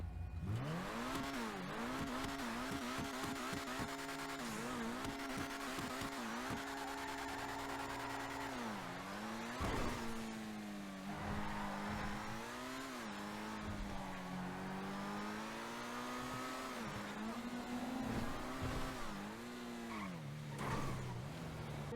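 The Annis RE7B race car engine in GTA Online revs loudly and continuously, pitch rising and falling through gear changes, with tire squeals, no voices.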